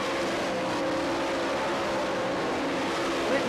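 Sprint cars racing in a heat race at Knoxville speedway, a continuous dense engine roar heard from a distance, steady throughout with no break.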